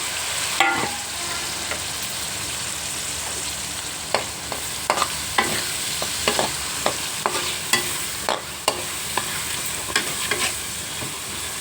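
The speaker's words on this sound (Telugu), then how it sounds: "ఇప్పుడు ఉల్లిపాయలు వేసుకుందాం." Onions fry in a pan for gongura chicken with a steady close sizzle, while a spatula stirs them, knocking and scraping in scattered sharp clicks throughout.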